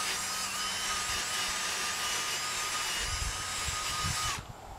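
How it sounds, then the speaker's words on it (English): Power grinder running continuously up close as it grinds rust off an old metal climbing tree stand, a steady harsh whine that cuts off abruptly at the end. "we're going to be grinding all of this, all of this rust"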